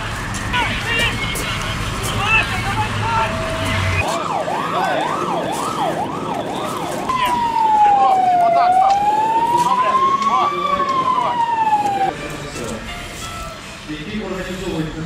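A fire engine siren wails nearby during an international railway emergency exercise, first a rapid warbling rise and fall, then slower sweeping tones, while a voice talks over it.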